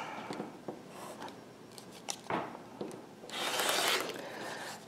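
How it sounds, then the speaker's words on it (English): A fabric strip is cut along a quilting ruler, giving close, brisk slicing and scraping strokes with a few sharp clicks and a longer rough swish near the end. "I'm going to move my ruler back and cut a 2-inch strip off of one side of this"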